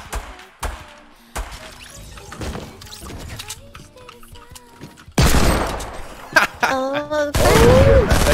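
Gunshots in a video game crack out as scattered single shots, then a louder, denser burst of rapid fire, with people talking over it.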